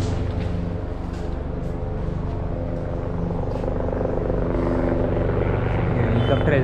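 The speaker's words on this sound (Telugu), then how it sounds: "హెలికాప్టర్ వెళ్తుంది." A helicopter passes over the Kedarnath trek area in the Himalayas with a steady low, throbbing rotor rumble held at an even level throughout, sounding moderately close with no break.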